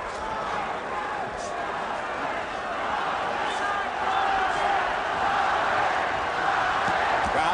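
Arena crowd at an Oscar De La Hoya vs Julio Cesar Chavez boxing match chanting Chavez, a steady distant roar of massed voices that swells toward the end, with a commentator talking over it.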